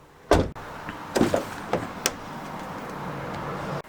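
A sharp plastic pop as a 2021 Ford Raptor door panel is pried open, followed by a few lighter clicks and snaps over a steady low hum, close and distinct.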